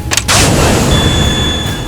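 A WW2 submarine torpedo launched in a war movie: a sharp burst, then a loud, sustained rushing whoosh with a high whine that lasts nearly two seconds.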